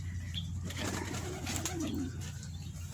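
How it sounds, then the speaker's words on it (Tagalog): A pigeon of a different color, one of several kept in a flock, cooing softly nearby with a brief burst of wing flapping over a low steady background hum. "So, ito ibang klase naman itong kalapati na ito."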